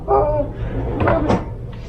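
A plywood drawer in a workshop miter saw station slides and knocks shut, giving a short, close wooden rumble with a couple of brief thumps.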